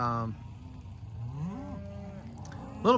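Cattle on a farm mooing near a pond, with a long low moo in the middle and another sharp call at the end, over a quiet outdoor background.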